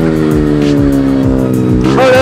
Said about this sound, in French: Wow, une Supra, les mecs.